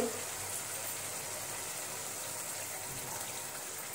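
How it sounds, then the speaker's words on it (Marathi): Half a glass of water is poured into a cooking pan for gravy with a soft, continuous gushing splash, quiet and steady throughout. "त्यामध्ये आपण अर्धा ग्लास पाणी टाकून घेऊ"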